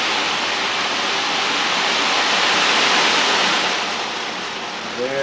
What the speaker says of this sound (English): A very large drum, and by its very name, creates the sound of the ocean just by slightly tipping it and letting the small eddies roll around.